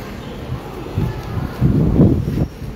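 Steady wind buffets the microphone outdoors, rising into stronger low gusts midway, with rustling but no clear speech.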